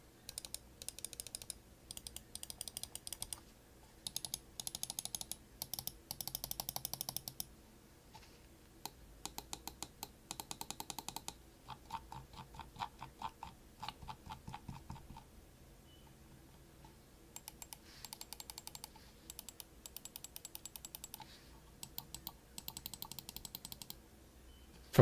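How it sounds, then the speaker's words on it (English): Buttons on a Logitech G Pro and a G302 gaming mouse click sharply in close, quiet bursts, with repeated fast runs of clicks separated by brief pauses and no voices. "Here's a listen to each, with the 2 main buttons compared with the G302."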